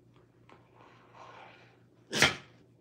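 A rescue Rottweiler lets out a single sharp, close sneeze near the end, following a stretch of faint rustling and low indoor background noise.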